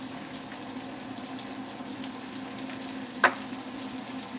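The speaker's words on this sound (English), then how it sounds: "So I'm going to let these fry up for a minute." Diced jalapenos fry in a pan for a jalapeno cheddar soup, a steady soft sizzle with a faint hum and one brief sharp clink, nearby and quiet, with no talking.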